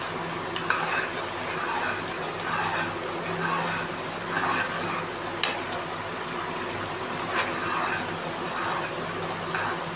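A spoon stirs coriander powder into paneer masala curry frying in a pan, scraping in a steady rhythm over a continuous close sizzle, with a few sharper clinks against the pan.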